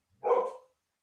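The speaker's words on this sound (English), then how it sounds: "I think my dog wants some water or something" A pet dog gives one short, muffled bark, fairly faint and off at a distance from the microphone, with silence before and after it.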